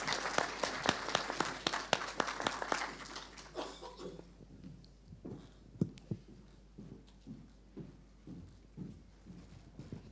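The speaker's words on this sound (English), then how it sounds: "Please welcome her with a huge round of applause." Conference audience applauding a speaker invited onto the stage at a cyber security career talk, a loud burst of clapping that fades after a few seconds into scattered claps and light room noise.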